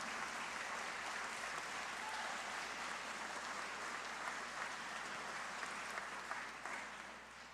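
Sustained applause from an audience at a student art contest award ceremony, a dense, steady clapping that fills the room and fades slightly at the very end.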